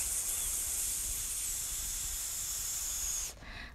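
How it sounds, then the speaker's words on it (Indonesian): Baking soda reacting with acidic water gives a steady, close fizzing hiss that holds evenly for about three seconds, then drops off sharply into a faint residual crackle. "Jika ada reaksi seperti ini dan bunyi desisan"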